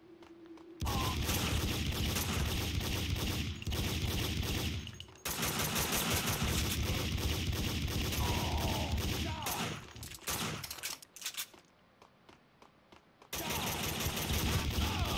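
Dense bursts of gunfire from the Max Payne 2 video game fill the scene: sustained rapid volleys that break off briefly, return, thin out, and then come back loud near the end.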